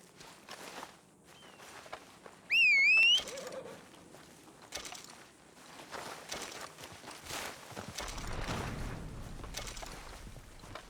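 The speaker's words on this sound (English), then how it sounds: "A herring gull." Herring gull calling in the video game Red Dead Redemption 2, a single loud bright wavering cry over a few seconds, set against outdoor ambience with footsteps and rustling.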